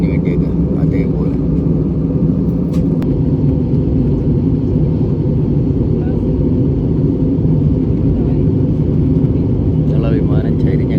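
Airliner cabin drone during descent toward landing on a flight to the Philippines, a loud steady low engine rumble filling the whole stretch, with a few faint brief sounds on top.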